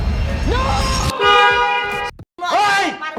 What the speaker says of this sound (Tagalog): tingnan naman natin kung anong tunog ng horn ng ating Camry dito